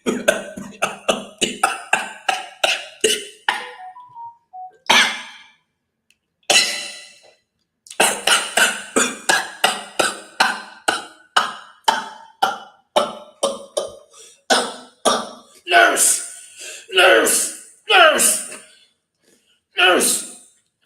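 A man coughs over and over in rapid, harsh bursts, with choking gasps and short pauses between fits, loud and close for about twenty seconds.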